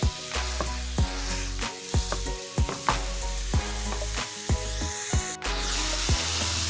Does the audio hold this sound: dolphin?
no